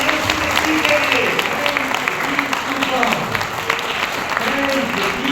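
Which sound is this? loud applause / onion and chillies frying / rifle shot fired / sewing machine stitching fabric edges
loud applause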